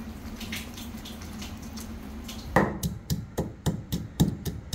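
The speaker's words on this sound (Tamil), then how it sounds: "தண்ணியில் 2 முறை நல்லா அலசி கழுவி எடுத்து வச்சுக்கொள்ளணும்" Soaked mushrooms being washed in water for a mushroom curry: a steady running, tap-like water wash, then a string of about seven distinct sloshing splashes as they are rinsed by hand, close and moderately loud with no talk.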